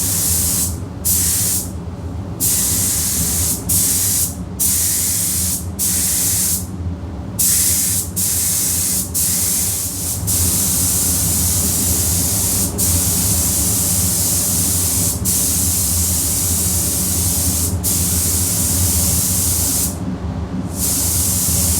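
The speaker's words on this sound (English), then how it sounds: "and then we start spraying again." A loud, steady spray-gun hiss applying clear coat runs in long passes, broken by short gaps where the spraying stops and starts again.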